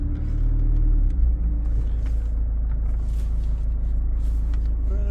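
A used car bought at a British car auction, driven on the road with a steady low engine and tyre rumble close inside the cabin, plus a few light knocks and clicks.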